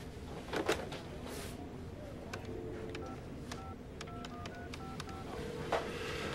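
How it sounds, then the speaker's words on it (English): A telephone number is dialed by hand, a series of separate touch-tone beeps in an uneven rhythm over a faint room hiss, with a few clicks of handling near the start and no talk. "I gotta get John Price on the phone"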